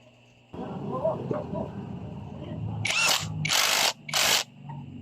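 Power tool tightening the camshaft sprocket bolt on a Honda XRM 125 motorcycle engine during a top overhaul, a low steady whir followed by three loud buzzing bursts of the tool, close by.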